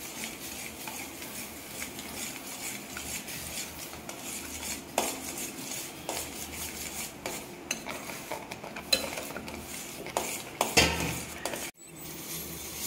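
A spoon stirs semolina for rava kesari in a pan over a low flame, with continuous soft scraping and occasional sharper metal clinks against the pan, close and fairly quiet.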